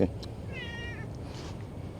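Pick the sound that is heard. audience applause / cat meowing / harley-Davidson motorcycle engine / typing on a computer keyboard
cat meowing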